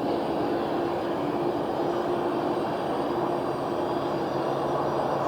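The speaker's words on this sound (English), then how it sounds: "So what does it take to start the engines? You can hear it spooling up now." A jet airliner engine spooling up during start at Phoenix airport gives a steady, loud whine and roar that builds continuously, with a high tonal hum over broadband rumble, no talking.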